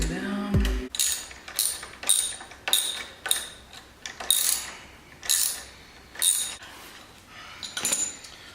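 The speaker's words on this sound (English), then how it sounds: "So I've got my next pair of sockets here ready to go." A socket ratchet tightens 10mm nuts on axle sliders for a Yamaha FZ-07 motorcycle. It gives repeated bursts of quick metallic clicking at a steady pace, close and clear, with short pauses between strokes.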